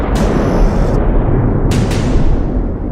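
Israeli airstrike blast on a Hamas target in Gaza: a heavy, continuous low rumble with several sharp cracking bursts on top, one early and two close together later.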